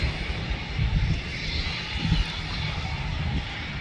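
An aircraft engine roars steadily at Manchester Airport, a loud sustained rumble that swells slightly around the middle and stays constant with no voices.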